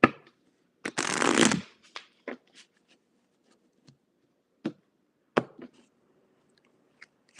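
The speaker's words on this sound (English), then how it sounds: "that was a bad shuffle. And we're going to have to reshuffle" A deck of tarot cards is riffled in one long, loud burst, followed by scattered short taps and slides of cards being squared and handled in a quiet room.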